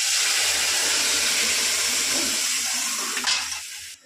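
Lentils are poured into onions frying in a little oil, giving a steady, close, loud sizzle. A brief splashy burst comes near the end before the sound drops away.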